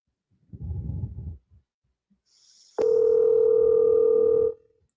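A telephone call rings out with a steady, loud tone held for nearly two seconds while the caller waits for an answer, following a brief burst of low muffled noise.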